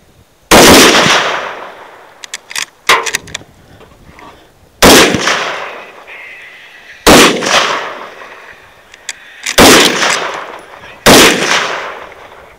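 Five loud, sharp 6.5 Creedmoor rifle shots ring out during a hog hunt, arriving in uneven pairs and singles with echoing tails and scattered smaller clicks and knocks between them.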